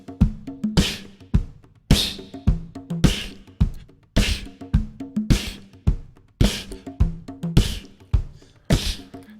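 A steady beatbox rhythm alternating bass drum and snare drum made with the mouth, punchy low kicks and sharp breathy snares repeating in an even loop, close and loud with no talking. A voice imitating a drum kit.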